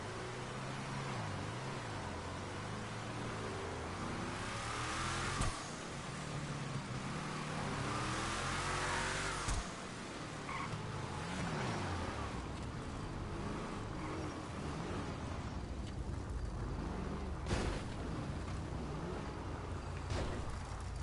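Cars cruising in GTA 5 Online during a car meet, a steady engine drone with shifting tones and occasional rev changes, moderately loud and continuous, no talk.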